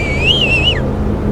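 A single clear whistle, loud and close, rises and wavers for under a second before sliding down and cutting off, leaving a low background hum.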